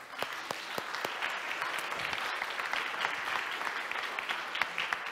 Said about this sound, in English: we will wave at them and clap for them